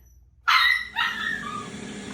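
A puppy in a home kitchen lets out two sharp, close barks in quick succession, the second trailing into a whiny yip, with no talking.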